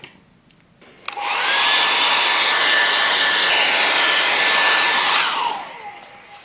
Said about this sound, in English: just to make sure it is dry, I use the hairdryer.